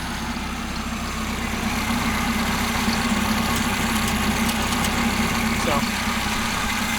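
Steady, close idle of a 1984 Toyota Corolla AE86 engine with its choke not hooked up, a constant low rumble running throughout with no voices.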